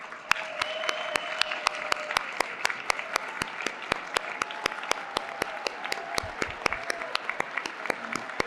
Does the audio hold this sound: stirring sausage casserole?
no